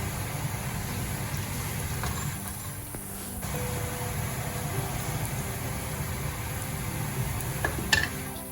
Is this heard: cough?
no